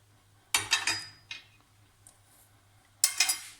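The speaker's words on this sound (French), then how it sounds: "Mélanger avec un fouet pour éviter les grumeaux" A whisk stirs flour and sugar in a saucepan over low heat as a little water is added, giving a few quick bursts of metallic clinking and scraping separated by near silence.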